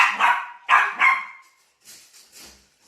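A dog barks close by in three quick, loud bursts, followed by softer, higher yips and whimpering sounds, with no one speaking over it.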